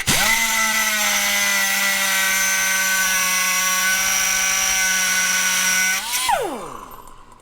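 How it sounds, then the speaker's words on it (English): A 3M 4-inch cutoff wheel tool, model 33581, whines loudly and steadily at full speed for about six seconds before releasing and spinning down, its pitch dropping as it fades. "this is a 3M cutoff wheel tool. It's a 4-inch, model number 33581"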